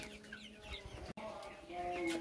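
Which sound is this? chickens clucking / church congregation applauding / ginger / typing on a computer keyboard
chickens clucking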